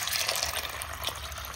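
Water is poured over tamarind seeds to wash them. A continuous, close, splashing gush runs for the whole short stretch with no voices.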